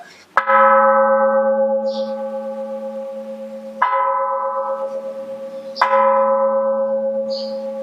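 A resonant temple bell struck three times at slow, even intervals, each stroke ringing out with a long, shimmering decay; no talking.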